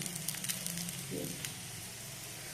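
Radish wrap frying in a little oil on a pan, a soft steady sizzle with faint crackles running throughout at low level, no voice present.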